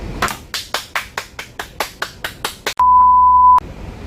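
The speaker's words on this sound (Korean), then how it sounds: "박수." A single person claps rhythmically about a dozen times, each clap sharp and close, to celebrate a birthday. A steady electronic tone sounds briefly right afterward.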